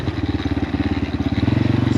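A Bajaj NS200 motorcycle on a technical offroad trail, its engine close and loud with a rapid, pulsing throb that climbs slightly toward the end, while a voice talks over it.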